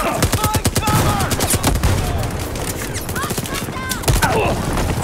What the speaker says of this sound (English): machine guns! Incoming fire!